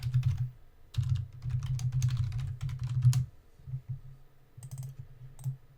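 Rapid keystrokes on a computer keyboard typing a folder name, a dense burst of clicks for about three seconds, then shorter scattered bursts after a pause, close and fairly quiet, no talking.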